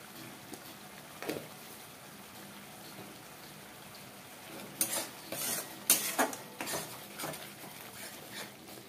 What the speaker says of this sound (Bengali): এটা একটু ভালো করে সাঁতলে নেব।